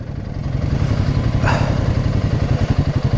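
A liquid-cooled 450 trials motorcycle engine thumps loudly up close, revving with a rising whine in the middle before dropping back to a rhythmic, pulsing idle.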